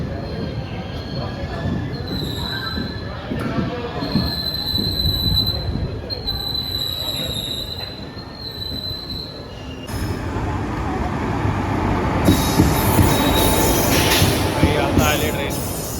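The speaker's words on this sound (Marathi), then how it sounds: "आले ट्रेन." A Jan Shatabdi train rolls up to a level crossing, loud and near, its wheels squealing in long high tones on the rails and the rumble swelling toward the end, while people talk nearby.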